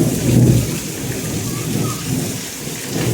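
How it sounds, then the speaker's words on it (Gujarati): Heavy thunder rumbles low and loud during a pouring rainstorm, a deep roll early on fading under the constant hiss and patter of rain falling on surfaces. "વરસાદ તો મિત્રો જોરદાર ગાજે"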